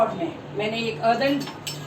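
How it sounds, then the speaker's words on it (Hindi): Cooked vegetables are moved from a pressure cooker into a cooking pot, with light metallic clinks and scraping of utensils under steady talking. "हम उसे खोलने के बाद हम उसे अपने कुकिंग बोल में ट्रांसफ़र करते हैं"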